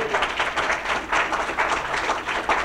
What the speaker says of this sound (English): Please give him double round of applause.